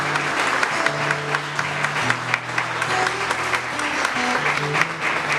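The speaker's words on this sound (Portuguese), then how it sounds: "Nós vamos aplaudir Jesus pela vida dela." A church congregation applauds during a sermon, with many hands clapping steadily for several seconds while sustained organ or keyboard tones play underneath.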